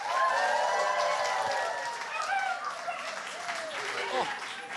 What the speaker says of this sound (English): Would you please clap, cheer, go wild